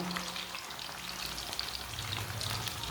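Chicken seekh kababs fry in a pan over medium heat, giving a steady soft sizzle with faint crackling pops throughout and no talking.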